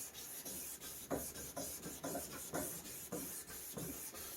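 A car headlight lens is hand sanded with 1500 grit sandpaper in quick, rhythmic back-and-forth rasping strokes, close and steady at about two strokes per second, with no speech.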